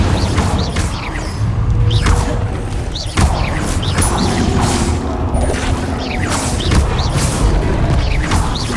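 Fire spell being cast in the Hogwarts Legacy video game, a dense layer of booming blasts, whooshes and crashing impacts over a steady rumbling game soundscape, with a sharp hit near the middle.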